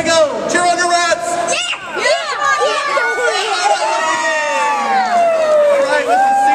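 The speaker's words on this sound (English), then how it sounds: "Cheer on your rats." Spectators cheer and whoop at a rat basketball game, a loud, continuous crowd roar with overlapping excited voices rising and falling throughout.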